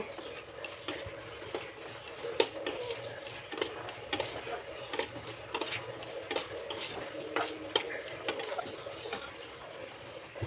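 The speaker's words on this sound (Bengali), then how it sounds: "ঘি দিয়ে আর সুজিটা ভেজে নিচ্ছি, ভালো করে লাল লাল করে ভেজে নেব" Semolina fries in ghee and is stirred steadily, giving quiet, continuous scraping with dense ticking utensil contacts against the pan for about ten seconds.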